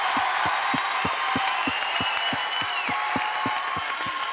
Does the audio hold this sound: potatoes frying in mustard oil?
no